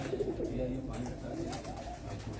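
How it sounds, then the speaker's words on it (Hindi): Fakir Gul pigeons cooing at a rooftop loft, soft repeated low coos close by over a steady murmur of background noise and voices. "ये फकीर गुल कबूतर है।"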